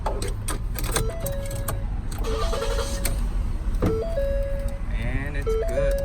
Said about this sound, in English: Now let's see if the car starts